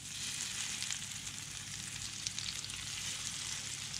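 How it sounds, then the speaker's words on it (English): Steady crackling sizzle of food frying in a hot pan, continuous and fairly quiet, with small pops scattered through. "So I'm going to give this its best chance of tasting good by frying it."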